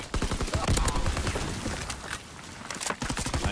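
Rapid automatic gunfire from a Call of Duty match rattles in dense, overlapping bursts, loud and continuous for a few seconds with sharp individual shots cutting through.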